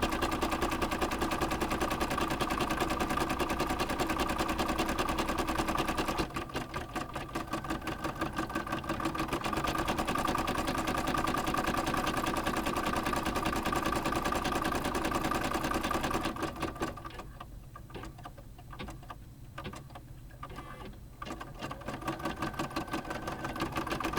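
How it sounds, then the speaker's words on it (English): A small embroidery sewing machine stitches buttonholes on a fabric bag, a fast, steady mechanical chatter close up, with short pauses and changes in pace as the stitching shifts. "And the final stitch are the buttonholes for the back side of the fabric"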